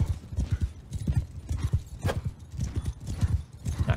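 Horses galloping in the video game Mount & Blade II: Bannerlord, with steady rapid hoofbeats from several mounts, close and continuous, and a faint neigh among them.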